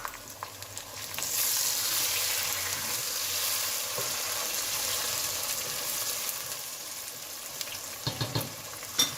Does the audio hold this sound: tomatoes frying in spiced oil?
yes